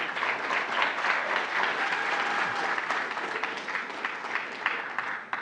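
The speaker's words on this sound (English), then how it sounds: "Please, we are working with time, so when you applaud a bit, you stop so that I can continue, okay?" Audience at a Ghana National Science and Maths Quiz preliminary contest claps steadily in a dense, sustained burst of applause lasting the whole stretch, loud and close with no talk over it.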